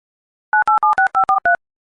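A run of seven short, evenly spaced telephone keypad tones beeps loudly and clearly in quick succession as a number is dialled to call parents, with nothing else heard.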